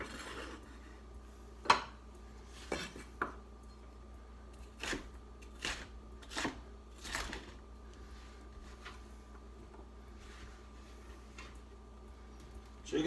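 A knife chops red and orange bell peppers on a cutting board in scattered sharp knocks, some single and some in quick pairs, close by against a quiet kitchen background.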